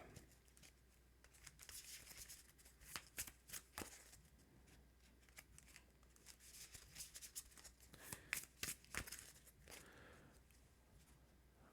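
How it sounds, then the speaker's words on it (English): Marvel Champions playing cards being shuffled back into a deck, a soft steady riffling and rustling with sharper snapping bursts in clusters, close and quiet with no talking. "So I'm going to shuffle those back into my deck."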